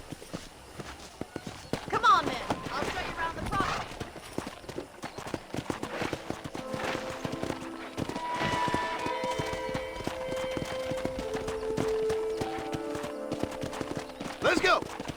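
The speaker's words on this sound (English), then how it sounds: "let's see if you can still ride a horse" Horse hooves clip-clop steadily along with occasional snorts in the Red Dead Redemption video game, moderately close and continuous under in-game character dialogue and background music.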